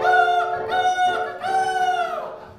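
A voice imitates a rooster crowing in a vintage vocal song recording, with two or three bright, drawn-out crows in quick succession, close and clear.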